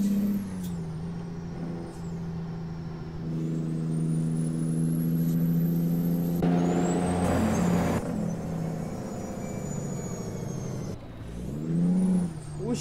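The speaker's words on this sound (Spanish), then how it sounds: "Y pues ahora sí, vamos a escuchar el motor." Heavy diesel engine of a Kenworth T600 truck loaded with gravel, droning loud and steady with rising revs, a sharp air-brake hiss midway and gear-change dips, on a mountain road with landslides.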